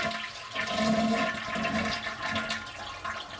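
A household toilet flushes to empty its tank, a close rushing swirl of water that gurgles and drains over a few seconds.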